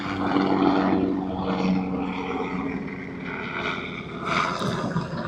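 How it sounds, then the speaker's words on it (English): A loud, steady roar of a military helicopter passing close overhead, swelling and easing slightly as it moves, with no voices. "No, that's a military helicopter."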